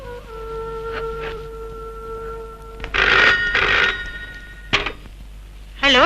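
A telephone rings in a Telugu film scene as a call is placed to an office: faint steady ringing tones first, then louder, bright ringing bursts in two long stretches, with a brief one after and another near the end.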